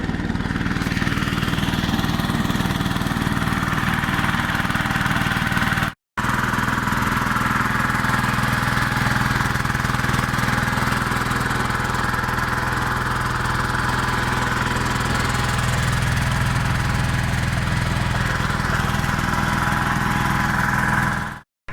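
A Yanmar YH80 rotary tiller engine runs loud and close for about twenty seconds, a steady buzzing drone broken once by a momentary cut before it carries on.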